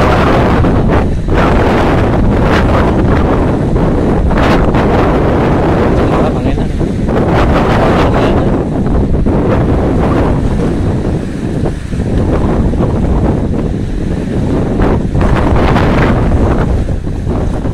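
Strong wind batters the microphone at Bakauheni port on the Sunda Strait, where the waves run high, making a loud, continuous rumbling roar with gusty surges throughout.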